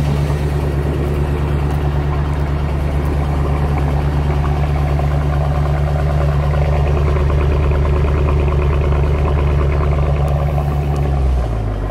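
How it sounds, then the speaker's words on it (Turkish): Just after a cold start, a Mercedes AMG 63 engine idles loud and close with a deep, steady, heavy rumble, dropping lower in the final second. "Şu 63 serisinin de cold startı çok güzel oluyor be."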